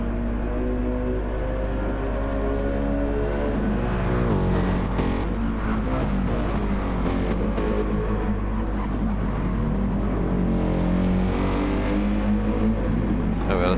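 Group 3 race cars roar around Bathurst in Gran Turismo 7, a continuous loud engine drone with rising and falling revs as several cars run close together, with no talk over it.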